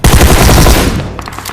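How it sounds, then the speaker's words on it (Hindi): Loud, close automatic gunfire from the video game PUBG comes as a rapid burst of shots that quickly falls away into a few scattered echoes. "यहाँ से गोलियां चलने की आवाज आ रही थी"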